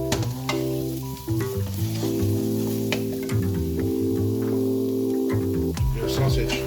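Minced garlic tossed onto hot rice in a pan for shrimp fried rice, sizzling loudly and continuously with stirring scrapes while a faint voice speaks now and then.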